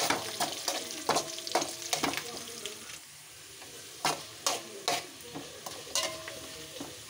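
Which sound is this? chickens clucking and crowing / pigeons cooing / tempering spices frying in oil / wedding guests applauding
tempering spices frying in oil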